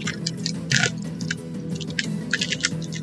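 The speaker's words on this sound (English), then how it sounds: "I realized I forgot to mute for that first crunch." Crunchy cheese puff snacks being chewed up close, with crisp crackling bites and mouth-chewing noises repeating irregularly over about three seconds, no talking.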